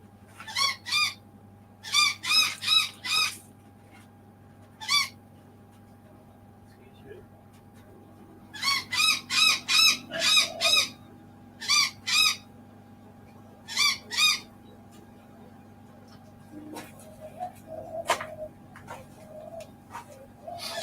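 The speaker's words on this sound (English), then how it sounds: "Called noisy minor birds for a reason." Sharp, harsh calls of noisy miner birds come in rapid bursts of repeated notes, loud and close, with pauses between; faint talking and movement follow near the end.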